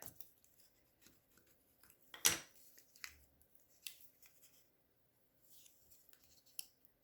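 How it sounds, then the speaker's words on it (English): Folded card paper is burnished along score lines by hand, giving quiet, sparse rubs and scrapes, with one louder crisp swipe partway through and soft paper rustles around it. "So while I'm folding, I'm going to burnish because I want this to lay down really good on these fold lines, score lines."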